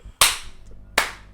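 A single sharp hand clap is made to start a podcast recording, followed by a second loud clap less than a second later, both crisp and close with quiet room tone between.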